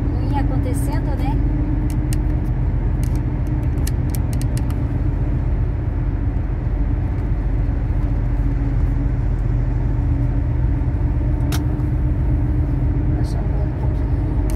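A vehicle drives at night through a long highway tunnel, giving a steady, loud low rumble of engine and road noise that fills the space throughout, with a few faint higher clicks.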